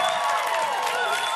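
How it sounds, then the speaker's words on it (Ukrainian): Studio audience on a Ukrainian TV show breaking into loud, steady applause with crowd noise, a dense continuous wash of clapping. "але перед цим оплески!"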